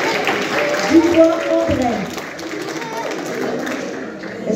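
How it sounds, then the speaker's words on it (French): Audience applause in a hall after a name is called, steady clapping and crowd noise running under a voice reading names over a microphone. "on peut applaudir"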